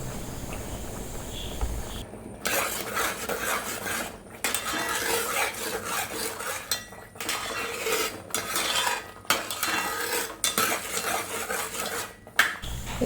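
A metal spoon scrapes and stirs ripe jackfruit cooking down in a pan, with repeated gritty scraping strokes broken by brief pauses, close and fairly loud.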